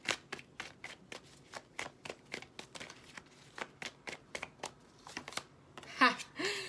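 Tarot cards being shuffled by hand, a series of soft, crisp riffling bursts at a fairly regular pace, quiet and close, ending in a louder slap of the deck with a brief faint voice.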